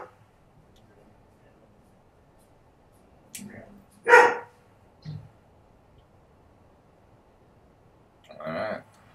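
An upset dog gives a few short, loud barks spaced apart, close by, alongside quiet background noise and some voice.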